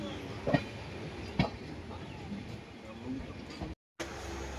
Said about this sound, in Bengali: এই যে আমাদের ট্রেনটা কার্ভ হয়েছে